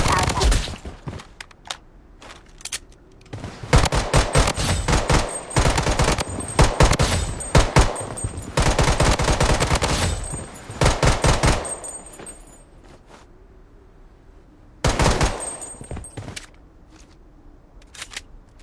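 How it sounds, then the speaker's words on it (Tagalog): Rapid video-game gunfire rattles in long automatic bursts, near and loud, stopping and restarting several times with a final short burst after a pause, while players talk throughout. "Baril ka ng baril ah."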